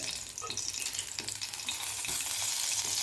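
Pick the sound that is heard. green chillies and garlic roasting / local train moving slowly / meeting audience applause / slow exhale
green chillies and garlic roasting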